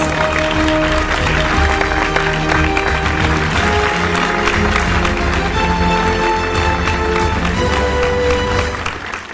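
Applause at the IHFS 2024 awards event for K. Jayamani, sportsperson award winner, a continuous loud clapping crowd under sustained music tones, fading slightly at the end.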